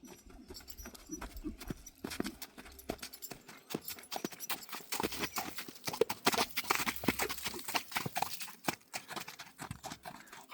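Breeding stallions walking, their hooves clip-clopping in a steady, uneven rhythm at close range, with faint background noise and scattered bumps throughout.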